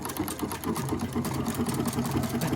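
Domestic sewing machine running a regular zigzag stitch along a bralette, the presser foot kept clear of the hook-and-eye hardware; a steady close mechanical whirr with fast rapid stitching rhythm, no talk.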